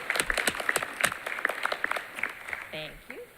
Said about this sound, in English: just a round of applause for all of our tenured teachers